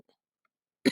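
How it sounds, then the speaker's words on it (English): Near-silence, then a single short cough right at the end, close and fairly loud. "I had to cough."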